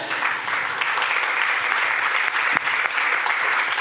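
Loud, sustained applause from the audience at a French panel on climate urgency and journalism. A thick, even roar of many hands clapping continues without pause.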